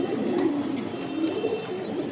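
Pigeons coo steadily at a pigeon farm, a low, close, continuous throaty burble running for a couple of seconds with no voices over it.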